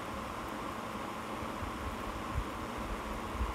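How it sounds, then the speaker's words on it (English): An air conditioner runs with a steady, broadband whoosh and low hum, unchanging throughout, with no other sounds standing out. "The sound of the air conditioner."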